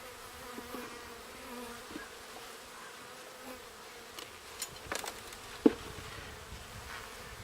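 Honeybees buzzing in an open hive during a fall inspection, a faint, continuous low hum with scattered close passes and small clicks or knocks, heard alone without talking.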